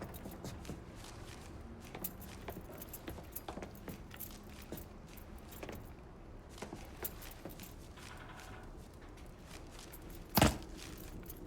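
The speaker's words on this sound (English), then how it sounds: "Lincoln, pick up the keys." Keys are picked up in the Mafia III video game, a soft metallic jingle set against a low, busy game ambience, with a brief sharp clack near the end.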